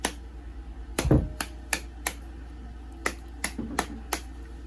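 Hardened, pale pink homemade paste for liquid soap base, tapped several times in short, sharp, separate knocks, close and fairly crisp, with no voices.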